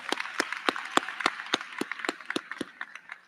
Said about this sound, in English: let's give all of these people out here a round of applause for their support